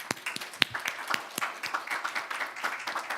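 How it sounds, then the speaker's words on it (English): Audience applause for panelists at a university presidents' meeting in Seoul, a modest scattering of individual hand claps with distinct sharp hits, fairly quiet and thinning out into looser, uneven clapping. "let's give our panelists a round of applause"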